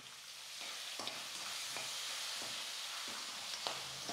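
Turmeric powder and curry leaves frying in hot oil, giving a faint, steady sizzle with a few soft stirring scrapes at intervals, close but quiet, with no talking.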